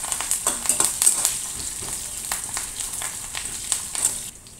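Green chillies, curry leaves and peanuts fry in hot oil in a pan with a steady close sizzle and occasional stirring scrapes.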